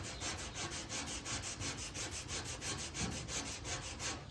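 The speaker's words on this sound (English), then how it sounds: "this is a 220 grit, which is a little soft for cutting this" A sanding block with 220-grit sandpaper is worked over a car body panel, making a steady, close, rhythmic back-and-forth scraping with about four strokes per second. The sound runs continuously and alone throughout.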